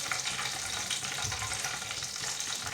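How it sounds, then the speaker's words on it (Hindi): Chicken frying in hot oil, a steady, fairly quiet sizzle and bubbling crackle that holds evenly throughout, with no voices. "इसी तरह सारे चिकन को फ्राई कर लेंगे।"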